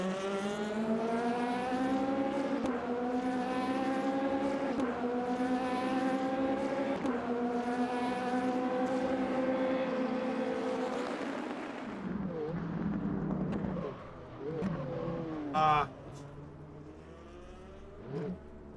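Racing-car engine in the Le Mans Ultimate sim racing game, a loud sustained harmonic drone rising and falling through gear changes for about twelve seconds, then quieter, rougher revs and a brief sharp burst near the end.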